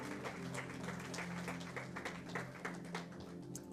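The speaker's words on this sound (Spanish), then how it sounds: "Dale ese fuerte aplauso a Jesucristo." A church congregation applauding, sustained dense clapping at moderate volume over a steady low musical hum for the whole stretch.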